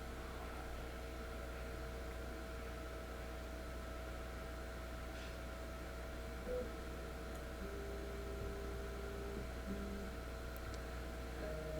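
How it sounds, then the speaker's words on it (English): A 3D printer hums steadily in a workshop where an RV-8 aircraft fuel tank is being built, a faint constant drone with a few soft tonal shifts from the stepper motors and no speech. "If you hear any humming or buzzing here in the background, it's because I got the 3D printer cranking away"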